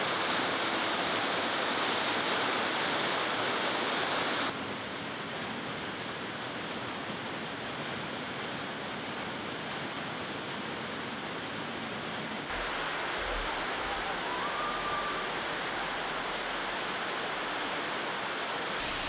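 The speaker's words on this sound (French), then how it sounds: "Voilà, en dessous de la cascade du Saut Girard." Steady, full roar of the Saut Girard waterfall in the Hérisson cascades of the Jura, heard from close beneath the falling water, a dense rushing wash that shifts level a couple of times but never lets up.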